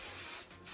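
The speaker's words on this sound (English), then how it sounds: "So a little bit of wax spray" Wax hair spray hisses from an aerosol can during hair styling, a close, steady spray that dips briefly midway before resuming, lasting under a second.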